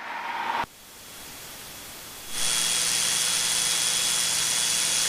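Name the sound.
small general aviation airplane in flight, cockpit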